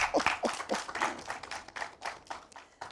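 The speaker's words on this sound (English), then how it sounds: "you guys, a round of applause" Audience applause at a startup branding panel event, a steady patter of many hands clapping with uneven bursts, moderately distant and fairly quiet, no talking over it.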